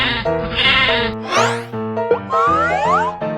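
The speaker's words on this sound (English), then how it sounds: "This is a sheep." A sheep bleats several times in close succession, loud and near, with wavering, quavering calls and short pauses between them, heard alone without talk.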